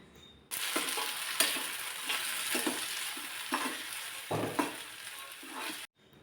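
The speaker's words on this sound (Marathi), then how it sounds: "मस्त अशा मऊसूद होईपर्यंत टोमॅटोच्या फोड्या आपल्याला परतून घ्यायचेत तेलामध्ये परतल्याना खूप छान अशी टेस्ट लागते भाजीची" Large tomato pieces sauté in hot oil with onion in a pan, giving a steady sizzle with repeated scraping stirs through it. Alone and close, it cuts off abruptly at the end.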